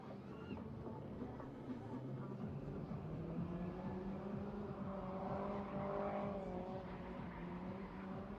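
A drift car slides around the track at a JK Tyre drift challenge at the Buddh International Circuit, its engine droning and revving in a sustained, wavering tone, heard at a moderate distance and fairly faint.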